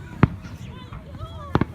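Fireworks go off in a few sharp bangs, one early and a quick double later, with voices around them.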